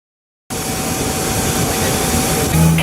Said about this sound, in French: L'avion de la chef du gouvernement congolais s'est posé sur le sol bakinois vers 15h50.